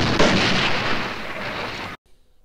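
A staged movie explosion blows up a dummy, a loud, dense blast of roaring noise that holds for about two seconds and then cuts off abruptly to near silence.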